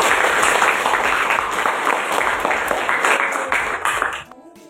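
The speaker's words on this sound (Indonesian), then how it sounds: "Boleh tepuk tangan lagi." Classroom applause during a teacher performance test at a university in Surakarta, a steady wash of many hands clapping that carries on for about four seconds before thinning and fading out.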